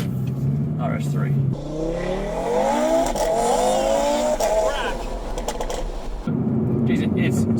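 An Audi R8 V10 plus drives along, its engine droning steadily and then rising in a long, sweeping rev as it pulls through the gears before settling back, heard up close from inside the car.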